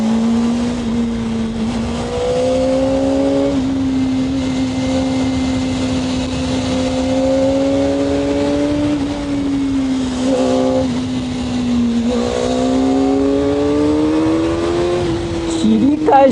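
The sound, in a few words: Kawasaki ZX-4R motorcycle engine revving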